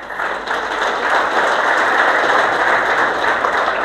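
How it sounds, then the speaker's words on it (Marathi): Sustained applause from an audience gathered for a talk on Maharashtra's hill forts, dense steady clapping that swells slightly after the first half second and holds loud and even throughout. "एकदा जोरदार टाळ्या होऊ द्यात."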